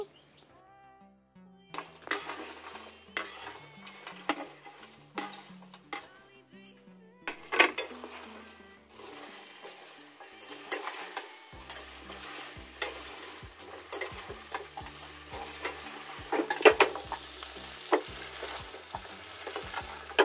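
Fried chicken pieces for chilli chicken sizzle and are stirred in a pan, with repeated scraping and clinks of a spoon against metal over a steady frying hiss, close and continuous.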